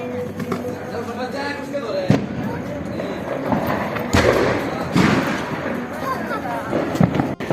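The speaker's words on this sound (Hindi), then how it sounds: "पटाखे छुड़ा रहा था।" Firecrackers set off outside in a street during Diwali, giving several sharp bangs and thumps at irregular intervals beneath steady nearby talk and background voices.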